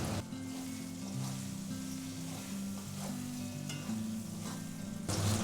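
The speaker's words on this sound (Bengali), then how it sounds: "ভালো করে সব মিশিয়ে কষিয়ে নেব" Spices, ginger, salt and green chillies sauté for a chela fish curry, giving a loud, steady, close sizzle that continues throughout with faint stirring underneath.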